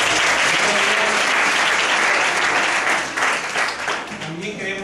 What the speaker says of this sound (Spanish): Pido un fuerte aplauso para cada uno de ellos.